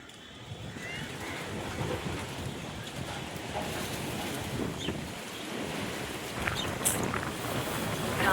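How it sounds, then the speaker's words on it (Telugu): Wind sweeps through an outdoor vegetable garden with a constant, rushing, broadband noise and buffeting on the microphone, building louder toward the end. "గాలి అయితే మళ్ళీ స్టార్ట్ అయిపోయింది."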